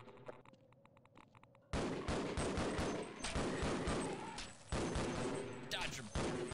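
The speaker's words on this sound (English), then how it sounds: "Let's get the shotgun out, because we got a lot of shotgun ammo." Shotgun fire in the video game Half-Life, loud dense bursts of gunshots and explosive blasts that erupt suddenly after quieter game sounds, with a gap before another barrage; someone talks at times.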